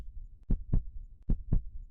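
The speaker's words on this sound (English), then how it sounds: "Your heartbeat gets faster and a rustling fills your ears." A heartbeat sound effect in the video game CyberParanoia thumps in deep, close double beats, two lub-dub pairs in quick succession over a faint low hum.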